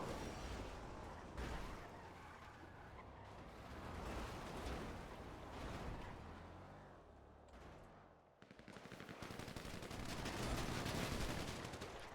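Gunfire in a GTA roleplay gang war crackles in dense, continuous volleys of shots and bursts, with a roaring background mix throughout.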